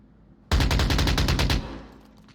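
Gunfire exchange in the VR shooter Onward, a loud close burst of about a dozen rapid evenly spaced automatic shots lasting around a second, then a fading echo.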